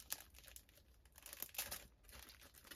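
A Christmas card package is opened up close, with faint crinkling and tearing of paper in quick rustling bursts over about three seconds.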